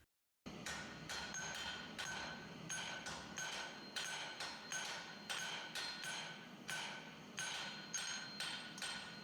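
Steady rhythmic hammer blows forging a hot steel bar, ringing strikes repeating about twice a second with no talking.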